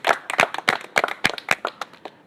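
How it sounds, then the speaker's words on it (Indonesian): A group at a scout leadership training course claps in unison, roughly ten sharp, evenly spaced claps in a quick rhythm that taper slightly toward the end, close and clear with no voices. "Oke, tepuk tangan kita semua."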